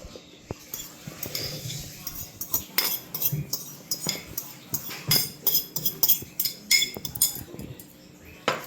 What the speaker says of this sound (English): Then you mix that up.